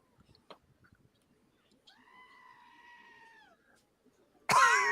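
A played sound effect of a goat giving one drawn-out screaming bleat, moderately loud over near silence, followed by a sudden harsh loud burst at the end.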